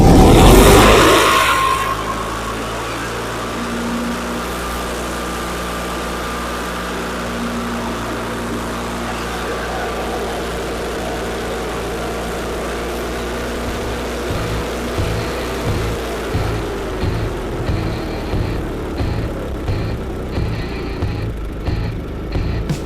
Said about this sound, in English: I'm going to start to idle up a little bit high now.